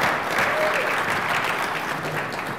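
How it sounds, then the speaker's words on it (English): Applause from a conference audience at a keynote talk, greeting a volunteer called to the stage: steady, dense clapping from a crowd, sustained and fairly loud throughout. "Let's hear it from Ted from Hamilton."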